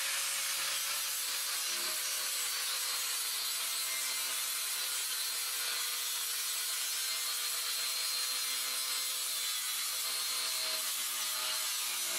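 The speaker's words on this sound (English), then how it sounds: "I have found the best way to cut this stuff is with a grinder with a cutoff tool, a cutoff blade that goes on here." An angle grinder with a cutoff blade trims wire mesh for an outdoor squirrel cage, giving a loud continuous high-pitched whine and abrasive cutting hiss that holds steady throughout, with a brief spoken remark.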